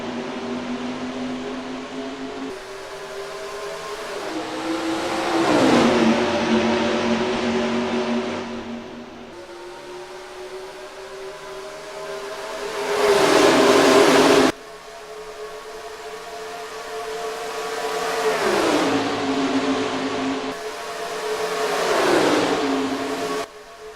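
Stock car engines roar in the NR2003 racing game at Las Vegas Motor Speedway, with loud, sustained engine drones that rise and fall as cars sweep past in repeated surging passes and no talk.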